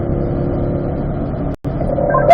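Car held at constant throttle on a race track, a loud steady engine drone heard from inside with a brief sharp dropout, then the engine note rises again.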